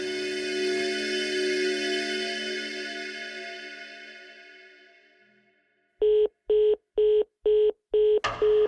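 A fading tone gives way to a short silence, then five evenly spaced loud keypad beeps and the start of a sixth tone.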